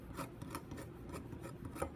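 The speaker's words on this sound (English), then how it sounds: "try to sand away or file away that small little burr" A hand file rasps across a small metal key chain to remove a burr, with quick repeated scraping strokes in an uneven rhythm, close and fairly quiet.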